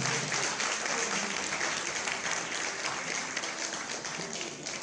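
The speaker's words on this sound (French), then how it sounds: "Mesdames et messieurs, le S15 et le S15 Pro, s'il vous plaît. Des applaudissements." A large audience at a phone launch in Côte d'Ivoire for the Itel S15 and S15 Pro claps continuously, a dense, steady wash of applause heard from within the room.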